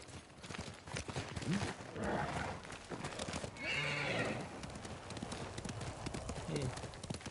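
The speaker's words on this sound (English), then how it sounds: "all I'm just gonna do is summon my horse" A horse in the video game Ghost of Tsushima whinnies and hooves clip-clop at a gallop, with steady talking running underneath throughout.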